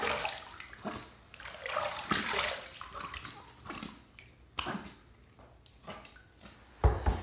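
Tap water runs faintly while a King C Gillette safety razor is rinsed, with soft splashes and trickles rising and falling as the blade passes under the stream.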